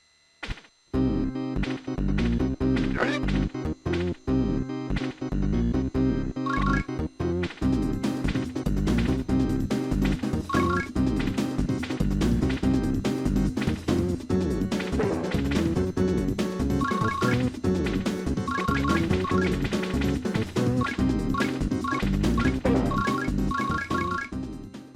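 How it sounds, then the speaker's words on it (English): Upbeat, whimsical Sega CD game music from Wonder Dog, a busy, loud track with punchy percussion hits and bright repeating melodic notes, playing continuously after a brief silent start. "The music of Wonder Dog is mostly a middling affair that is upbeat and whimsical"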